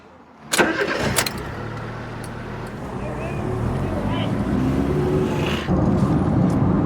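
A Fiat Punto engine being started: a sharp crank-and-catch burst near the start, then a steady idle that rises slightly and continues with a clunk later on.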